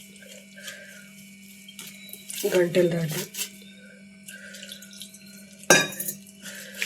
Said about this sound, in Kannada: ಸ್ವಲ್ಪ ನೀರು ಹಾಕಿ ಕಲಿಸ್ತಾ ಇದ್ದೀನಿ